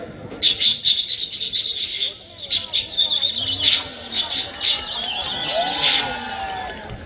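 A voice mimics birdsong with rapid, high chirps and tweets in several bursts, close and fairly loud, over a soft background murmur.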